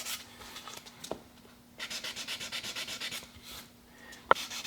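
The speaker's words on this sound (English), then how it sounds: "Always sanding with the grain" A wood rifle stock is sanded by hand with the grain, giving soft, steady rubbing strokes in repeated bursts, close and fairly quiet, with one sharp knock near the end.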